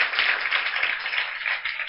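A group of children applauds to welcome guests at a summer camp event. The clapping is steady and dense and lasts the whole time, with no talking over it.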